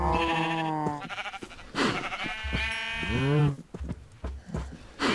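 Sheep in the video game Minecraft give a few nasal, wavering bleats, loud and close, in separate bursts broken by short gaps.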